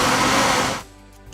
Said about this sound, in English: The average commercial blender,